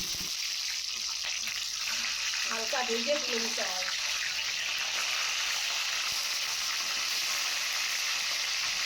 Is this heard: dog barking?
no